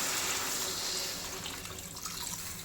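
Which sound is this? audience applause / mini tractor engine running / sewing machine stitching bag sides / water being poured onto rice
water being poured onto rice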